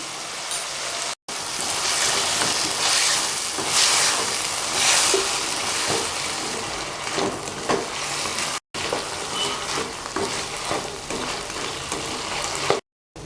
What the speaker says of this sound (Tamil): வெங்காயம் தக்காளியும் சீக்கிரமாக வதங்கிறதுக்காக கொஞ்சமாக உப்பு சேர்க்கலாம்